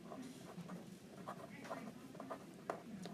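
Pen or pencil scratching notes by hand on paper, a series of light, irregular strokes close by with faint room noise beneath.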